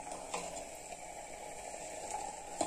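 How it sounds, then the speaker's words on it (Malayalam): Grated coconut mixture bubbling in a clay pot for kalan, a steady soft simmering hiss with faint pops and a few light clinks, heard alone at close range. "തേങ്ങ നന്നായിട്ട് തിളച്ച് വന്നിട്ടുണ്ട്"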